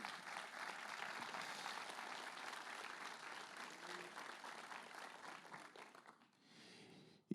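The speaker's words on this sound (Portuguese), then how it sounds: "Você pode dar um aplauso ao Senhor?" Church congregation applauding: dense, steady clapping from a crowd fills the room, then thins out and fades near the end.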